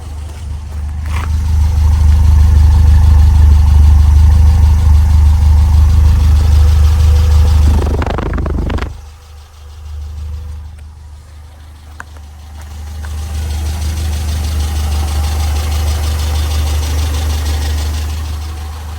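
A Peugeot 207 Verve idles with a steady low exhaust rumble close up, then a brief whooshing disturbance cuts in, the engine drops quieter for a few seconds and settles back to a constant idle.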